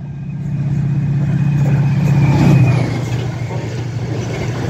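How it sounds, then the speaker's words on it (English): Class 68 diesel locomotive hauling a container train, a steady loud engine rumble close by with a faint high whine, swelling briefly in the middle as it passes. "Now coming round is a Class 68 with a container train"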